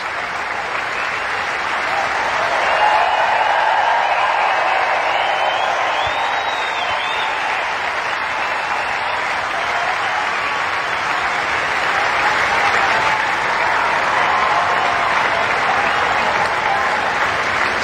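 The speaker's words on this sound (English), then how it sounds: "Standing ovation, well-deserved for Federer once again." Sustained, loud applause fills Wimbledon Centre Court as a standing ovation greets Federer after a quarter-final win in 2018, a dense, steady roar of clapping from a large crowd that holds evenly throughout.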